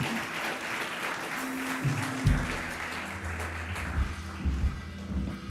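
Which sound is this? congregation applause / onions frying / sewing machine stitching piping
congregation applause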